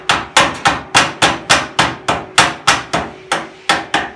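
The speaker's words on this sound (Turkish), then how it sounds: "Eğer geçmezse ufak bir çekiç yardımıyla şöyle" Fifteen sharp taps of a small hammer knock a plastic part into a washing machine during a bearing replacement, in a quick, steady rhythm, loud and close, each hit ringing briefly before the next.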